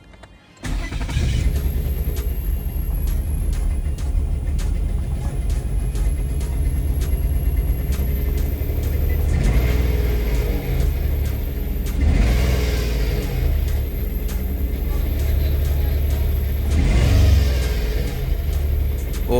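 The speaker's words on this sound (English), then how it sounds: "so the muffler isn't fully connected now, so that's why it sounds extra low" A 2011 Nissan Teana engine idles and revs with its muffler not fully connected. The exhaust note is loud, deep and rumbling and runs steadily for most of the stretch, with a brief rise and a whine.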